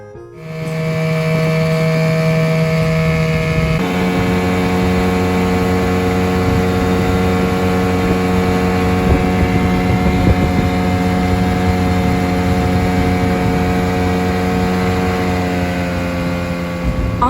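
A small outboard motor on a dinghy drones steadily and loudly from close by, its tone shifting slightly after a few seconds, with no talking.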